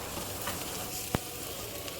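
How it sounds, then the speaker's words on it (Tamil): Tomatoes sauté with onion and green chilli in a pan, a soft continuous sizzle with one brief sharp clack of a utensil partway through, no voices. "லேசாக தக்காளியை வதக்கிக்கோங்க."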